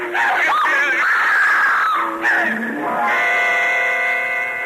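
A loud, sustained high-pitched scream wavers and breaks off, then rises again in shrill cries, close and intense.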